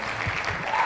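A brief burst of clapping applause, a short, moderately loud patter lasting under a second with nothing else around it.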